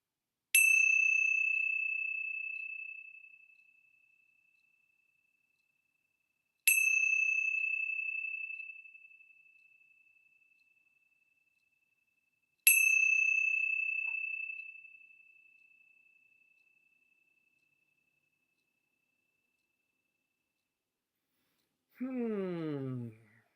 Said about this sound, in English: let's begin our time with the ringing of the bells